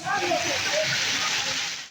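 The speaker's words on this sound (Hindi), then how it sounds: "कोट अद्दू, पिंड दादन खान में भी तेज बारिश हुई।" Heavy monsoon downpour in Pakistan, a dense, steady hiss of rain and splashing water, loud and close throughout, with faint voices mixed beneath it.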